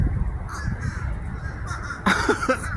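A large flock of birds, tagged as crows, calls outdoors, with a low rumble of background noise and a few harsh caws rising clearly near the end.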